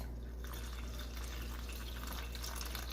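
Warm water from a kettle pours into gravy in a soft, steady splashing trickle that runs on without a break at low level beneath a constant low hum.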